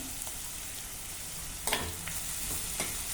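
Ginger garlic paste fried with onions in a pan over medium flame, a low steady sizzle with a few sharp stirring scrapes near the middle and end, close and without speech.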